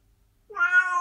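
A single clear cat meow rises after a brief silence, close and fairly loud, with a drawn-out tonal cry lasting about half a second.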